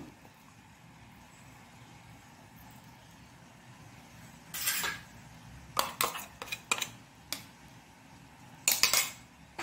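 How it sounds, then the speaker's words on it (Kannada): A metal spoon scrapes and taps against a vessel as chutney is moved into it, giving short clinks in two bursts over quiet room hiss. "ಇದನ್ನು ಇದಕ್ಕೆ ಶಿಫ್ಟ್ ಮಾಡಿಕೊಳ್ಳೋಣ ಒಂದು ಪಾತ್ರೆಗೆ ಚಟ್ನಿಯನ್ನು"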